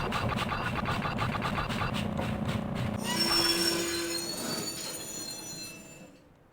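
A moving train in the video game Breath of Fire III rolls along with steady rattling wheels, then a high squeal rises partway through before the sound fades out near the end.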